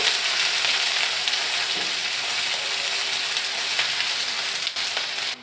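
Sliced onions and green chillies frying in hot oil for a Karnataka-style kaadele kalina sukka masala, a dense, steady crackling sizzle heard close and alone, with faint scattered pops throughout.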